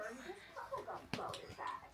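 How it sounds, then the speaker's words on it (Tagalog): A pet dog yips and whimpers in short bursts indoors, faint and mixed in with someone talking over it. "Stop barking."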